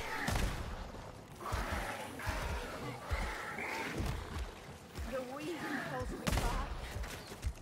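Bursts of gunfire in Warhammer Vermintide 2, rapid volleys of shots and thuds amid busy combat noise, with people talking over them.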